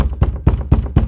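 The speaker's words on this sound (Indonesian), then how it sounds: "Dan tak lama kemudian lagi-lagi pintu itu pun diketuk." Knocking on a door: five dull, evenly spaced knocks in quick succession, close and fairly loud.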